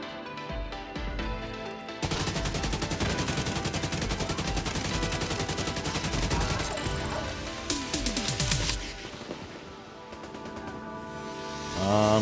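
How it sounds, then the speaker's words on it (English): Rapid chain gun fire in The Division 2 video game: a dense, loud, sustained automatic burst lasting several seconds, with brief pauses and a few trailing shots. "Oh, chain gun."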